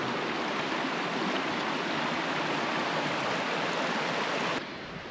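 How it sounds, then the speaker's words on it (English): A creek at Mash Fork Campground in Camp Creek State Park rushing steadily in a loud, broad, continuous wash of flowing water close by, with no voices, easing slightly at the very end. "But give you one more shot of the creek."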